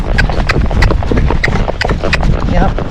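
A Tennessee Walking Horse foxtrots up a steep incline, its hooves striking in a quick, uneven four-beat clip-clop close by, with a rider's voice heard over the footfalls.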